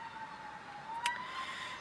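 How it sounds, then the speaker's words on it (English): Emergency vehicle siren wailing faintly in the distance, a thin steady tone holding through the whole moment against quiet outdoor background hum. "Sirens. I don't know if you can hear that."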